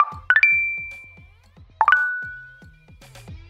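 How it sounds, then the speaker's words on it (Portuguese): A Tinder dating app notification chimes twice, bright rising ding tones spaced over a second apart, loud and close, over soft low clicking sounds with no talking. "O som dessa notificação é inconfundível para muitas pessoas."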